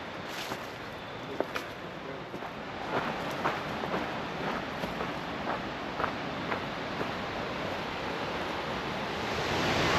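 Cummins Falls waterfall in Tennessee gives a steady, broadband roar of rushing water that fills the scene and builds slightly toward the end, heard alone without talk.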